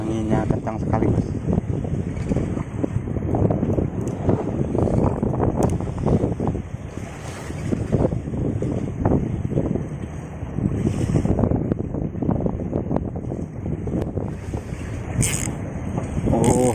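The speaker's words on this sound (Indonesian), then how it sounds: "Anginnya kencang sekali bos." Strong wind sweeping over a small fishing boat at sea, squid fishing amid high waves, roaring steadily against the microphone with surging gusts and rough water beneath, voices faintly present now and then.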